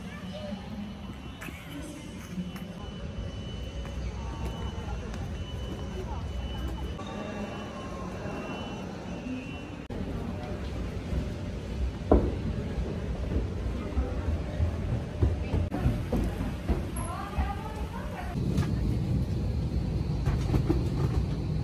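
An airliner cabin rumbles steadily as the plane lands in Bali, a low engine and road-like drone throughout with a cabin announcement voice speaking over it.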